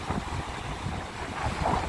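Steady wind buffets the microphone at the seaside, a dense rushing roar that stays even for the whole two seconds.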